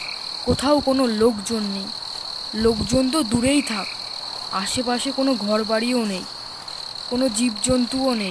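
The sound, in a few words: crickets chirping at night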